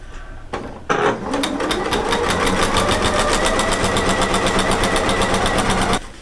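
A regular home sewing machine stitches through a quilt top and batting, starting with a short burst and then running in a fast, steady, loud mechanical whir with a rapid needle rhythm for several seconds before stopping.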